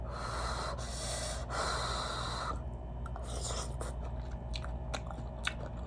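Someone bites into spicy rosé braised chicken with onions, crunching and chewing close to the mic between sharp breaths, over a steady background hum.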